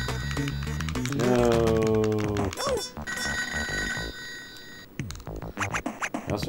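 A telephone rings, its bell-like tones rising out of a busy mix of game music and scratchy effects, heard in short repeated bursts at moderate volume.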